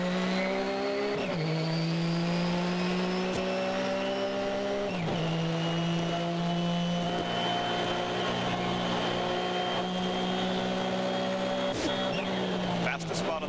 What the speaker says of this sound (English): let's listen to the Nissan go to work.